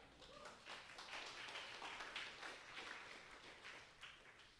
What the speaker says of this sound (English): clap, everybody clap.